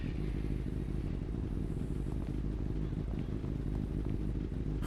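A motorcycle engine in the GTA 5 video game, a steady rumbling drone held throughout at moderate level, with faint clatter and no talking.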